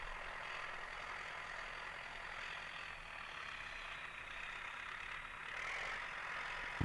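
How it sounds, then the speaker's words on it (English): A tractor runs in the background during maintenance at Okaukuejo camp, making a steady, faint mechanical drone that holds even throughout without speech. "And sadly, we will just hear that tractor in the background."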